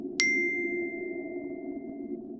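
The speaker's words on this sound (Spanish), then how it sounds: "recibí otro mensaje de texto." A bright single notification ding for an incoming text message. It is sharp and clear, rings out for nearly two seconds and sits over a low steady background hum.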